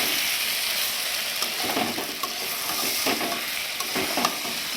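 Cauliflower and cabbage fry in a pan with a steady, close sizzle, broken by a few faint scrapes of stirring, with no one speaking.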